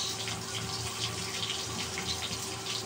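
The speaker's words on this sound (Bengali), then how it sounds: "এখন আমি একটু পানি দিয়ে দিব, হালকা করে একটু পানি দিয়ে দিবেন।" Water poured steadily into a raw mixture for a small-fish chorchori curry, a continuous close splashing rush that runs for the whole stretch with no talking.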